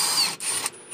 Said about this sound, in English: So you're gonna use the 12 millimeter impact to take this side off.